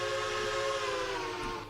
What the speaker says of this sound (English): Let's give this engine a new whistle.